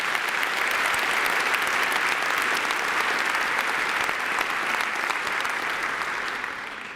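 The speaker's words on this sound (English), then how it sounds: "Let's give them a round of applause." Audience applause for a college team being honored, sustained dense clapping from a large crowd at steady volume for the full stretch, easing slightly at the end.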